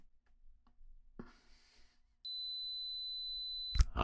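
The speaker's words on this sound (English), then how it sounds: "Okay, so now let's get my Air Max warmed up. Let's listen for the beep." An Arizer Air Max vaporizer gives a short warm-up beep, a clean electronic tone held steadily for over a second in a quiet room after some soft handling clicks and rustles.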